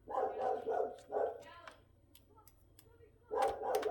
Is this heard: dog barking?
yes